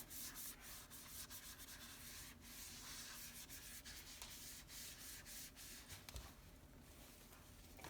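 Coffee dye being rubbed by hand over a flowered fabric curtain gives a steady, close scratchy rubbing and brushing texture that runs unbroken throughout, with no voices.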